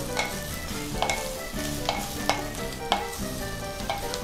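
Sliced Chinese sausage being stir-fried in a clay pot, with a steady sizzle under repeated sharp scrapes and clanks of a spatula against the pot, close and fairly loud.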